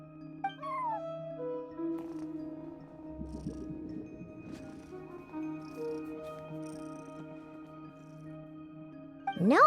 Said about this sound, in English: No one except for a cat watching over the front desk.